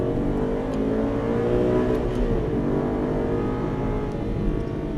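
Aston Martin accelerating on the Dreux race circuit, a steady loud engine drone rising in pitch as the car pulls out of a corner, heard close and continuous without talk.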